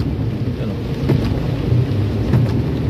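Heavy rain pours during Typhoon Carina amid flooding near an airport, a dense, continuous roar with a deep low rumble throughout and no clear speech.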